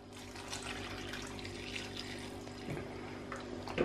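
Water poured into a covered cooking pot of meatless cabbage rolls, a steady running splash lasting a few seconds with a faint clink near the end, heard alone without talk.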